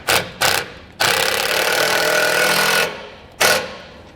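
An impact or power driver snugging down a screw with an 8mm socket while mounting a trailer connector bracket: two short rattling bursts, a sustained two-second rattle, then a final short burst, loud and close.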